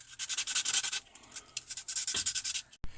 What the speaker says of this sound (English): we might have to sand down that O-ring in place